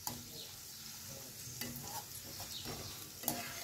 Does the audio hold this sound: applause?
no